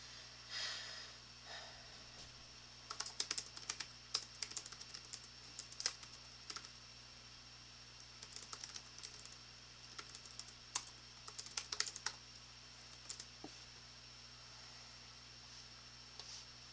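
Keys clatter on a computer keyboard in bursts of quick, irregular taps, fairly close and moderately quiet, over a steady low hum with occasional breaths.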